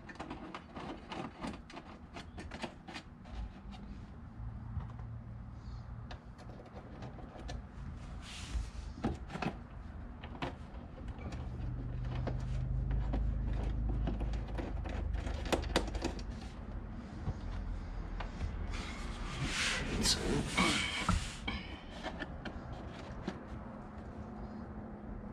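Small screws driven in to secure the glove box liner of a 1967 Chevrolet C2 Corvette, heard as a run of quick ticking and clicking under faint workshop noise, with louder rattling bursts near the end.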